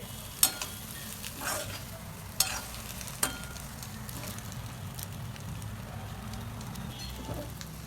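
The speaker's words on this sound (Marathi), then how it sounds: "अशी मिक्स करताना मसाल्यात आहे ना हळूहळू हलवायची जरा थोडी" A spoon stirs boiled egg bhurji through spice masala in a hot pan, a steady low sizzle with a few sharp scrapes and taps against the pan, close and without talk.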